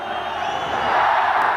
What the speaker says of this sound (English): a big cheer goes around the Bangalore Stadium